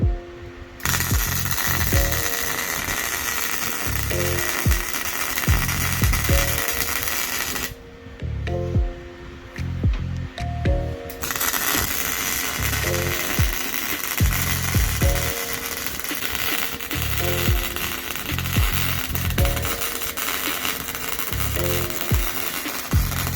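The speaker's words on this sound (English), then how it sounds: "Now to weld up our FrankenWheel lower control or mounting adapter." Welding a wheel mounting adapter for a FrankenWheel lower control arm: loud, close, harsh crackling buzz in long bursts, broken by a few short pauses between passes.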